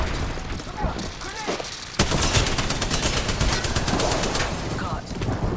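Rapid bursts of video game gunfire rattle loudly and steadily through the second half, preceded by a stretch of voice and game sounds, with faint chirps mixed in.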